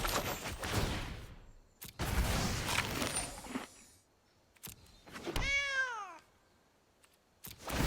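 A cat gives one clear, drawn-out meow in the Magic: The Gathering Arena game (Throne of Eldraine set), heard alone after several loud bursts of noisy game effects.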